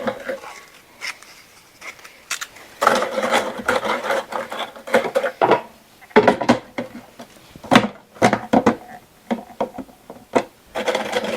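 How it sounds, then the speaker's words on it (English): Biscuits are ground to crumbs in a food processor for a coffee cake cheesecake, heard as uneven bursts of rattling, gritty whirring with short pauses between pulses, close and moderately loud. "I'm going to put these in my food processor and make crumbs out of them."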